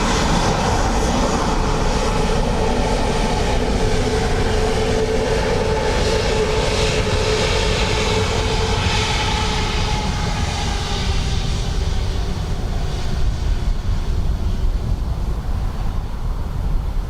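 A fixed-wing airliner on approach to Dublin Airport's runway 28 left on a windy day, its steady loud engine roar and rushing wind noise sustained throughout, slowly fading toward the end.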